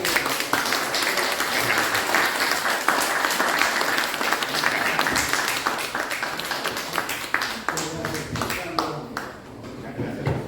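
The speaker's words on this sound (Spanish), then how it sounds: "Un aplauso." Audience applause after a talk with no further questions, sustained loud clapping from a crowd filling most of the stretch, thinning toward the end as voices begin talking.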